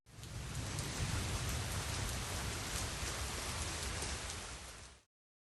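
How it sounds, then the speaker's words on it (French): Steady, dense rain falls without a break for about five seconds, a soft, even hiss that then stops abruptly. "La pluie."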